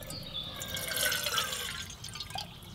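Water pours steadily into a Meva kettle, a continuous trickling, splashing stream with a rising filling tone, moderately close and alone.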